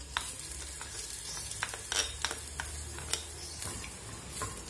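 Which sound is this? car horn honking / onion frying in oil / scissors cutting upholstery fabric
onion frying in oil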